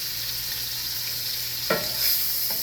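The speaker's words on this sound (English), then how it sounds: "here I'm gonna add some butter to my pan. And I'm gonna be doing this on low heat." Butter sizzling in a pan on low heat: a steady, soft fizzing hiss, interrupted by a couple of brief scraping stirs near the end.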